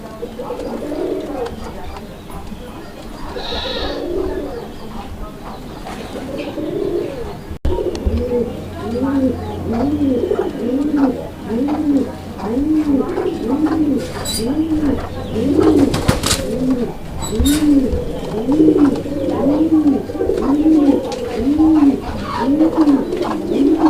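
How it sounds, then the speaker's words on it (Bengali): A pair of red Bombay pigeons at a pigeon farm coo close by in a steady, repeated rhythm that grows stronger through the second half, with a voice and light background noise early on. "এটা হচ্ছে আপনার রেড কালারের মধ্যে একটা বোম্বাই কবুতরের জোড়া"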